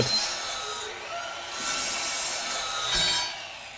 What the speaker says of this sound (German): Jetzt flexen wir einfach mal die Schrauben weg